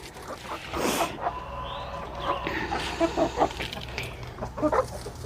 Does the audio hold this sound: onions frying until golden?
no